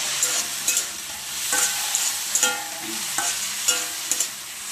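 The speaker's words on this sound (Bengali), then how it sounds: "আলু ভাজা, ডাল বসিয়েছি" Potatoes frying in a home kitchen pan as the morning's cooking begins: a steady close sizzle with repeated scraping stirs at an uneven rhythm.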